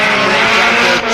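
A drift car screams at high revs during a British Drift Championship run at Teesside. The engine is loud and close, a continuous, strained roar with a brief dip near the end.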